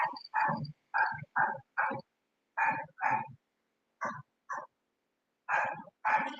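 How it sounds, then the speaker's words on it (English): A dog barks close by in a series of short, sharp, separate barks. Some come in quick pairs and there are quiet gaps between them. No other sound is heard. "excuse the dog"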